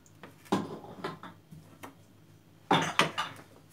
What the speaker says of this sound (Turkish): Onunla kesiyoruz. Dilim dilim yapacağız.